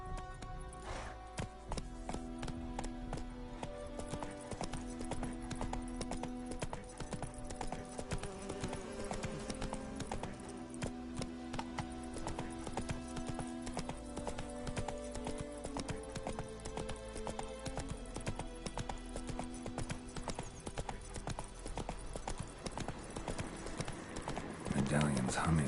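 Hooves of Roach, the horse in The Witcher video game, clip-clopping in a fast steady rhythm throughout, with occasional whinnies, a musical score underneath and a voice speaking over it.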